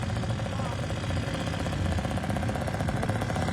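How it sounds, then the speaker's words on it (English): Stock race scooters idle together on the starting grid at the Pembrey circuit, a steady, dense mechanical drone with a fine buzzing pulse throughout, fairly close and unbroken. "Scooters, I think I can hear them already lined up on the grid"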